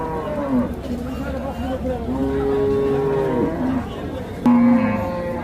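Bulls and other cattle moo at Hazratpur cattle market near Dhaka, several long drawn-out calls close by, while people talk in the busy background.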